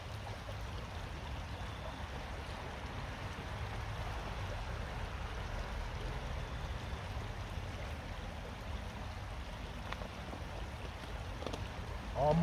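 Cold water streams steadily through a Puribag purification bag into a container, a continuous close trickle and rush with low, even gurgling and no talk.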